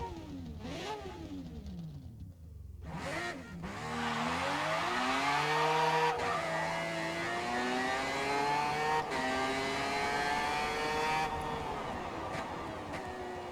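A rotary-engine race car revs up with a swooping, rising whine, then holds at a loud, harsh buzzing drone with slight rises and falls. It sounds close and continuous.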